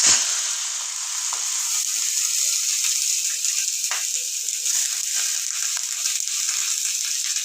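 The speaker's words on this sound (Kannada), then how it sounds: "ಆಯಿಲಲ್ಲೇ ಒಂಚೂರು ಫ್ರೈ ಮಾಡಬೇಕು" Washed fish roe frying in about two spoons of oil in a home kitchen, a steady bright sizzle running the whole time with occasional small pops and stirring scrapes, close and alone with no talk.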